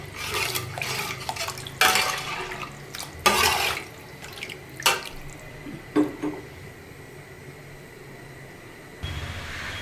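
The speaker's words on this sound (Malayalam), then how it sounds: "അത് കഴിഞ്ഞ് കുറച്ച് വെള്ളവും കൂടി ആഡ് ചെയ്ത് കൊടുക്കുക" Water is added in several short, splashy pours and clinks to a pot of ground curry paste for a Kerala fish curry, each burst separated by quieter gaps with faint kitchen background noise.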